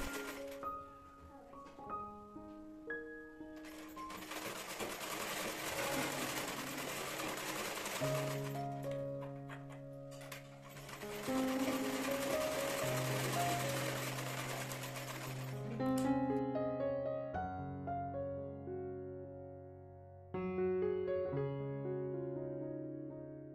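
A sewing machine stitches the lining of a katori blouse in steady runs that start and stop, with music playing throughout.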